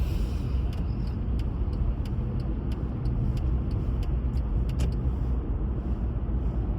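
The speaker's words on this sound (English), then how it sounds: "Traffic starting to build up here early in the morning." Morning road traffic builds on a sunny Monday in Congo, a continuous low rumble of passing cars and engines with scattered brief higher clicks and taps, heard steadily throughout with no talk.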